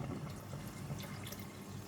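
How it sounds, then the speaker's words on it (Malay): Boiled stock water poured into a pot for Pakistani biryani, a soft continuous splashing and gurgling stream, steady and fairly quiet, with no speech. "Kemudian saya akan masukkan ini air rebusan tadi."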